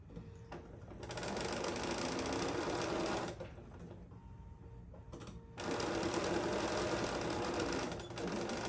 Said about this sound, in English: I'm only gonna sew about halfway down,